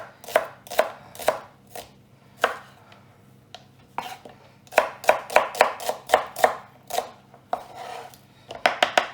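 A knife chops shallot rings on a cutting board in a kitchen, sharp irregular knocks coming in bursts with short pauses, then a quick rapid run of cuts, close and clear with no talking.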